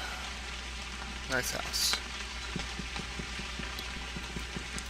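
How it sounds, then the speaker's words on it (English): Steady hiss of rain from the video game Knytt Stories, a constant soft wash continuing throughout, with a voice speaking briefly over it and a couple of short louder sounds in the middle. "I like the rain noise"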